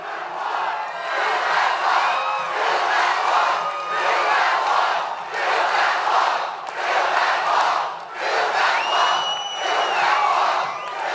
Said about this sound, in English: This is a great crowd.